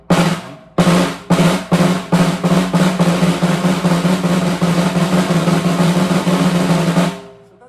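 Snare drum buzz roll played in separate bursts that gradually speed up until they merge into a sustained, continuous buzz, close and loud, then stopping.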